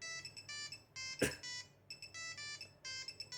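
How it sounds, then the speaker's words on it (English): Nokia Lumia 635 Retro Goofy ringtone: a bouncy run of short, bright electronic beeps in repeating bursts, loud and alone, with one brief noisy burst near the middle. "Retro Goofy ringtone."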